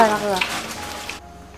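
Vegetables sizzle steadily in a hot frying pan up close, a continuous crackling hiss that cuts off abruptly near the end.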